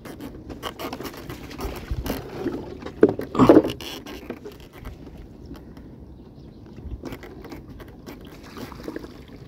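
Small wooden boat moving through a flooded rice field near the Cambodian border, with mechanical clattering and splashing bursts in the middle over steady low motor rumble and water noise, no talk.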